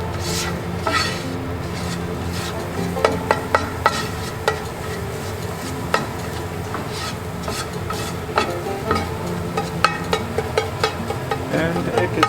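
Fried rice, made with leftover or freshly cooked rice, being stirred in a hot pan: a steady sizzle under repeated scraping and clinking of a utensil against the metal, close and continuous, with faint talk in the background.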